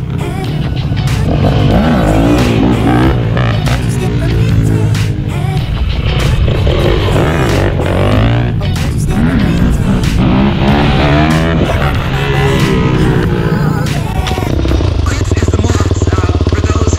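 A Yamaha YZ 250F four-stroke motocross motorcycle roars continuously at high revs, loud and close, its engine note rising and falling as it accelerates and shifts on the road.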